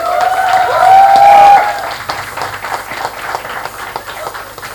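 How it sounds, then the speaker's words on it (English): An audience at a book launch event in Mumbai breaks into loud, sustained applause to welcome the panelists, with a brief whistle or feedback tone at the start and clapping continuing throughout. "Please welcome all our panelists with a huge round of applause."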